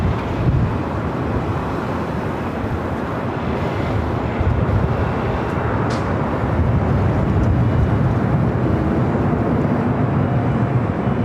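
A KLM jet airliner takes off from runway 24 left at LAX, making a steady, loud, broadband roar that holds level throughout, with wind buffeting the microphone.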